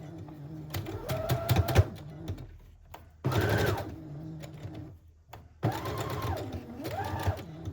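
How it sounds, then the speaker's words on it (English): A sewing machine stitches a decorative doily onto a lace piece in short bursts of mechanical whirring separated by brief pauses, close and fairly quiet, with no talking. "I'm gonna sew this pretty doily in the center of my lace here"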